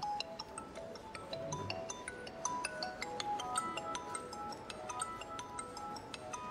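A phone ringtone signals an incoming call, a quiet tinkling electronic melody of repeated bright tones playing steadily with no one speaking.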